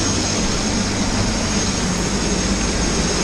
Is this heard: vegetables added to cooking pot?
no